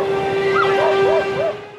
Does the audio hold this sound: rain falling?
no